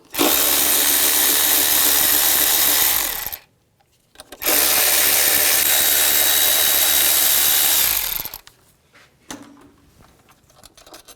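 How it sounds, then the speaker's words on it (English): A power tool with a 10mm socket whirs in two sustained bursts of about three and four seconds, backing out bolts and nuts on the throttle body of a 2003-13 Toyota Matrix, then a few faint clicks in near silence. "there's 2 bolts and 2 nuts to take off. Use a 10mm socket."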